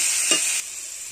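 Mankochu (giant taro) with fish and chili powder frying in a pan, with a steady bright sizzle and one quick stirring scrape near the start, close and fairly loud.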